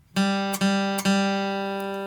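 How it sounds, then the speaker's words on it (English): An open third guitar string plucked three times, each note ringing clearly with steady sustain, the third left to decay slowly. "you're going to play the open 3rd string 3 times"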